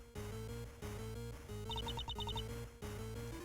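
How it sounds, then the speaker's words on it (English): A cell phone in the Ace Attorney Investigations 2 video game rings with a short run of rapid electronic beeps over steady game background music, with no talking. "It's a cell phone. Huh? Mine is also ringing."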